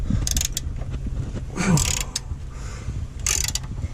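Rear differential mounting bolt on an E36 M3 being loosened with a wrench, giving a few creaking, ratcheting mechanical clicks and a brief strained squeak amid low workshop rumble, close and moderately loud, no talking.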